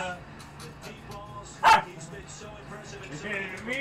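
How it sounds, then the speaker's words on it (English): Dogs bark once in a short, sharp burst partway through, heard under ongoing conversation between people in a room. "we got the dogs upset now."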